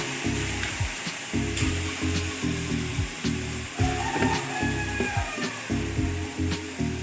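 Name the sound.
frying and stirring kachu bata with grated coconut in pan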